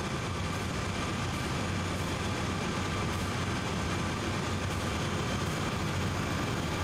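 A freight train led by four locomotives rolls past in Train Sim World 2 on Sand Patch Grade, a steady loud rumble of diesel engines and wheels that holds at one level throughout, with no voices.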